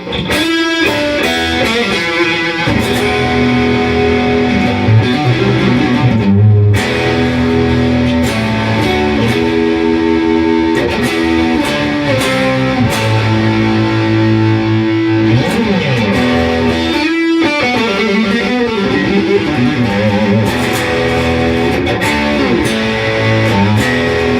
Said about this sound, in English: as you can hear through the Strat and all the different positions through the EVH pedal